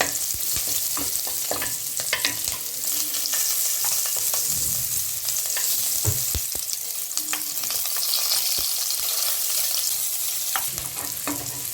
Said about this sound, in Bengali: এবার আমি এই কাঁচা পেঁয়াজগুলো দিয়ে দিলাম।